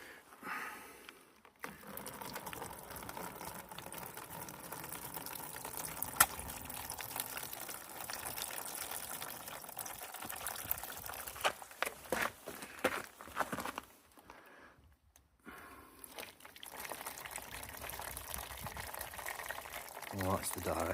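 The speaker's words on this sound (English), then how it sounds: "Boil the kettle, let's see what we can see." An electric kettle heating water in a home while a Baxi boiler with no hot water is checked, giving a steady rushing, bubbling roar that runs nearly throughout, with brief drops to near silence.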